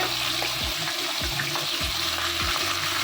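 Fritters (bora) of batter with green chilli, onion, salt and turmeric fry in a pan with a constant close bubbling hiss, broken by a few soft, regular low thumps.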